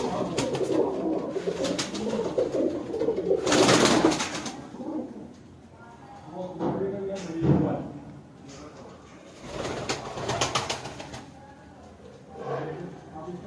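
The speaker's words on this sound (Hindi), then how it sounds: "ये मेरा 5 नंबर कबूतर है" High-flying pigeons coo and flutter in bursts close by, with people talking over and between the birds.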